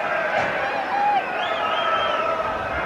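A football crowd of around 35,000 at a Wales v Brazil match, a steady distant roar with faint rising cheers and whoops throughout.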